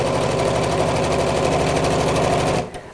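A sewing machine set to a 2.8mm stitch top stitching along the edge of a coat hanger zipped cover, a loud steady rapid mechanical whirr with fast regular needle beats, running continuously before stopping abruptly.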